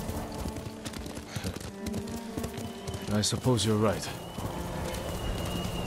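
Horse hooves clip-clop steadily while riding through the countryside in Ghost of Tsushima, a constant rhythmic trot beneath conversation, with a brief louder flourish midway.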